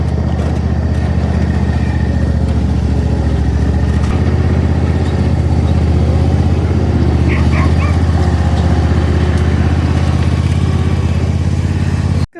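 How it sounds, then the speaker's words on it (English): A steady tractor engine drones close by throughout, low and continuous, with a faint bark or two briefly heard partway through. "I'm going to drive my tractor around"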